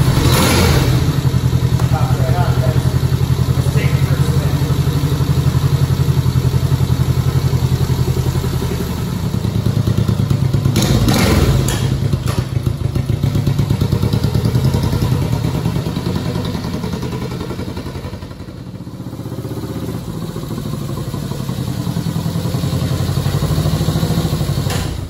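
A 1970 vintage motorcycle engine runs loud and close, chugging steadily at idle with a brief rev and a clattering burst midway, then settling back to a rough idle.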